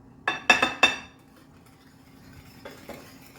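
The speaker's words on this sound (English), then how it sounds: "So you mix all your dry ingredients." Sugar and cocoa for a chocolate pie are stirred together in a bowl, giving several quick clinking scrapes of a utensil against the dish in a short burst, then a couple of fainter taps after a pause.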